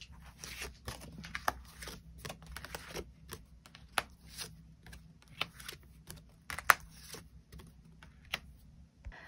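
Tarot cards are shuffled and drawn in a quiet room, giving a series of soft, crisp card flicks and taps at close range, some sharper than others, with no talking.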